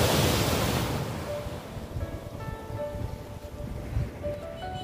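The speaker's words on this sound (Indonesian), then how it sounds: "Pada saat ini kebetulan ombak besar" Big ocean waves at Lasiana beach in Kupang, a loud crashing surge at the start settling into a steady roar of surf and wind, with no talk.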